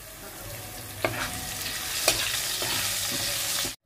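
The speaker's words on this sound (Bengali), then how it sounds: "আমি মাছের তেলে আলুগুলো ভেজে নিচ্ছি।" Potato pieces frying in the oil left from frying fish, a constant close sizzle and crackle with a couple of sharp stirring scrapes, stopping abruptly at the end.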